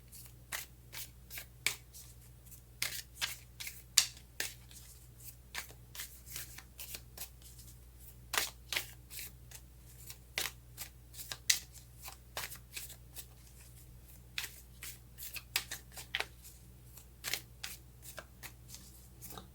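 Tarot cards being shuffled and drawn for a reading, a steady run of crisp riffling snaps and slides repeating at close range for about twenty seconds, with no talking over it.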